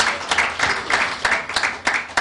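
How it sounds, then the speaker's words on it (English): An audience at a women's forum in Africa applauds a guest of honor with quick, rhythmic clapping in bursts, fairly close and lively, with no voices over it. "Can we give her a round of applause?"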